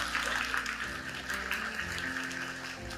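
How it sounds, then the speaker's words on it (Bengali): Students at a college quiz competition give a soft round of applause for the two winners, moderately quiet clapping that holds evenly for a few seconds. "তোমাদের জন্য অনেক বড় একটা হাততালি।"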